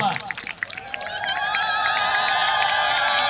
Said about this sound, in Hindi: समस्ते ताली देवा जोर से टिके भौणी माने गुरुमा माने हुलहोली देवा